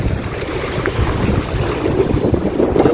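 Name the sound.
big waves with wind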